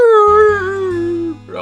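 A person imitates a dog howling, giving one long, loud, close, mournful note that slowly falls in pitch, with a brief low rumble of background noise under it.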